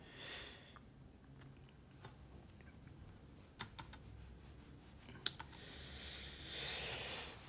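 Soft, scattered computer keyboard clicks and taps at close range while playing Dofus Touch, with a few sharper key strikes and a low background hum.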